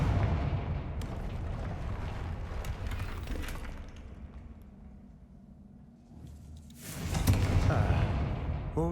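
Confringo fire-blast spell in Hogwarts Legacy, a rumbling, crackling burst that fades into a low lull before a second loud blast flares up and rolls on.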